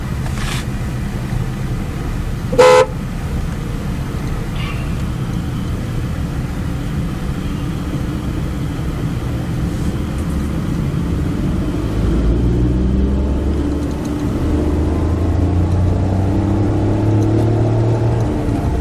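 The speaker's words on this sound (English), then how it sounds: "There's a lot of traffic for the evening." Heavy evening road traffic rumbles steadily around a car, with larger vehicles such as a truck or bus passing and the low engine drone growing louder toward the end.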